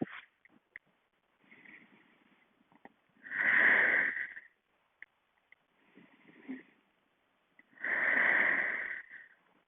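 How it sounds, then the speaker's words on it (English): Two slow, deep breaths are taken during a core-strengthening stretch, each a soft inhale followed by a louder, close, airy exhale, with quiet gaps between and no talking. "3 deep breaths."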